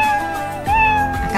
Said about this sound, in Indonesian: kucing terus menerus, karena settingannya mainkan suara kucing